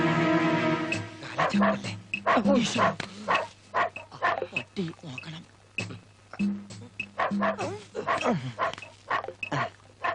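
A man imitates a dog barking in a comedy scene, producing a rapid run of loud, close, voiced barks and yelps, mixed with other voices talking.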